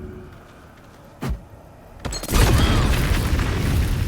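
Alchemist's fire thrown at a jar in Baldur's Gate 3: a sharp impact thunk, a brief pause, then a heavy burst that settles into a sustained roaring burn.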